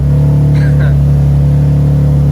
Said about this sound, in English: I don't know if y'all can hear me because how loud this fucking car is.